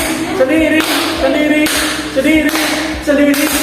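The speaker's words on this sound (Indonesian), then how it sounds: "Ayo, tepuk sendiri, dekat, bersentuhan" Pupils in a classroom clap their own hands in short rhythmic bursts, several groups of claps repeating over a steady background, with voices mixed in.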